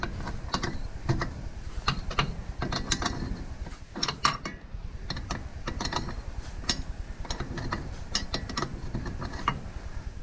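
Ratcheting clicks come from a wrench loosening the parking brake adjuster on a Kawasaki Mule Pro DX utility vehicle, with quick bursts of close metallic ticks repeating in irregular runs and a brief pause midway.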